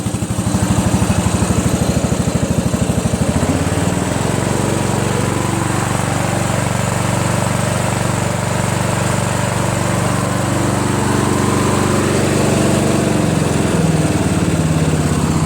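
A Sabre John Deere lawn tractor engine, newly fitted with a repaired carburetor, runs loud and close with a steady, smooth droning rumble that holds throughout with no talk.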